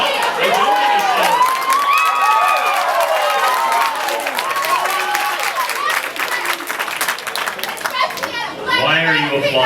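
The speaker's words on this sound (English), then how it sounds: "Why are you applauding?" An audience at a university speech breaks into sustained applause mixed with cheering and whistles, a dense crowd roar that continues for several seconds.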